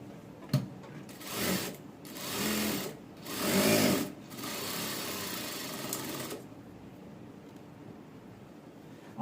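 A sewing machine stitches a princess-cut padded blouse in several close, rhythmic runs of rapid needle chatter that rise and fall, then settle into a steady hum before stopping.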